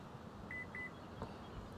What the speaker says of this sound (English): hold the button right here and you listen for the beeps